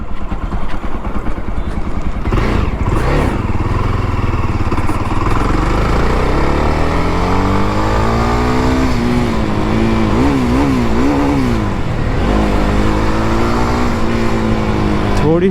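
Jawa Bobber 42 motorcycle engine running loud and close while riding on a pothole-filled road, a steady drone with rising and falling pitch sweeps as it accelerates and shifts.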